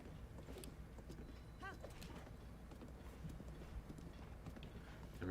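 Horse hooves clip-clop steadily in The Legend of Zelda: Breath of the Wild, a faint rhythmic trot under a low ambient game soundscape with a brief chime.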